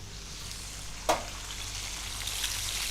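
Swordfish cooking in a pan, a faint steady sizzle with one brief sharp crackle.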